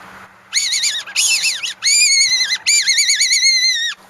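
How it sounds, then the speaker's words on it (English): A shrill, warbling steel wigeon whistle, used as a fox call, blown close and loud in four long blasts, each wavering in pitch. "Good old steel widgeon whistle"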